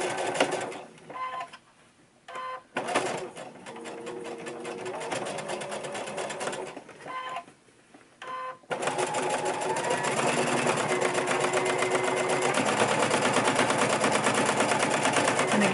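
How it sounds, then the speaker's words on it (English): A sewing machine stitching the seams of a darted fabric mask: a couple of short start-stop whirring bursts, then one long, steady, close mechanical hum of fast stitching, with no voices. "Last step is sewing"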